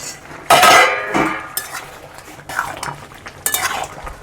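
A cooking pot lid coming off a simmering pot of bottle gourd and prawns, a loud metallic clank and scrape followed by quieter clatter and another sharp clink near the end, no talking.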